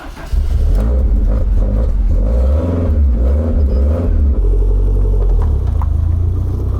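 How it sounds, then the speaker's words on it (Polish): An Alfa Romeo 155 Q4 engine turns over and catches, then revs steadily with a loud, close, continuous rumble that dips briefly before settling back into a running idle-to-rev drone. "Wszystko po to, żeby samochód przynajmniej odpalił."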